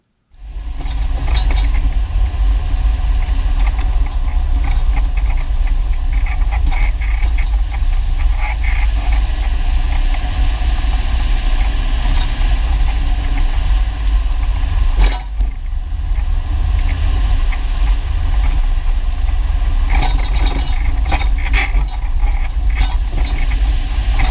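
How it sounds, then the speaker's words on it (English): A 2010 Chevy Suburban idles steadily with a continuous low rumble, overlaid by faint metallic jingling and rattling from the front end, no talking. "how to solve a jingling in the front of a 2010 Chevy Suburban"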